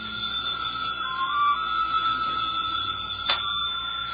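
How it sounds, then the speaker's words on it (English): A telephone rings in a 1950 radio comedy, a steady electric bell tone sustained through the whole stretch, close and fairly loud with no voices over it. "Somewhere in the living room, the phone rings."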